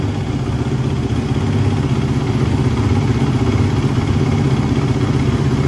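A 2013 Suzuki RM-Z450 dirt bike engine idles steadily and loudly up close, with a continuous rough, clattering throb and no talking.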